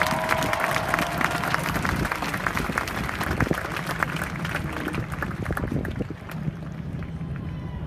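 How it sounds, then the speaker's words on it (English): An audience at an addiction-awareness rally applauds Congressman Kennedy, a dense, steady wash of clapping with a crowd murmur and scattered voices mixed in throughout. "He's an extraordinary leader, deserves a round of applause"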